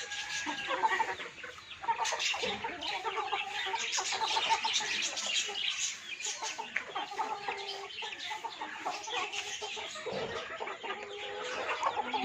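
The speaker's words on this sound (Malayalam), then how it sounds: "വ്യത്യസ്ത ഇനം കോഴികളുണ്ട്. കരിങ്കോഴി, നാടൻ, ഗ്രാമപ്രിയ, എല്ലാ വിഭാഗക്കാരുണ്ട്." A flock of farm chickens of mixed breeds, including Kadaknath, native country fowl and Gramapriya, clucking and squawking continuously at close range, with overlapping calls throughout and no talking.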